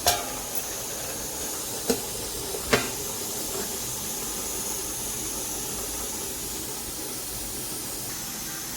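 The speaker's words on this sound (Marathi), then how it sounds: "पहा आपण उकडत ठेवलेलं आहे" A snack of millet and wheat flour with vegetables steams in a covered pot, giving a soft, continuous hiss with a few faint clinks near the start, fairly quiet and unbroken.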